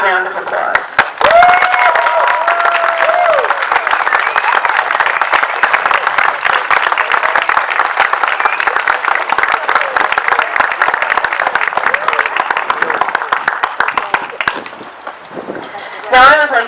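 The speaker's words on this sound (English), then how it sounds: "give you a huge round of applause" Sustained, loud applause from an audience honoring veterans at a community event, dense clapping filling the room for about fifteen seconds before tapering off, with a brief voice near the start and end.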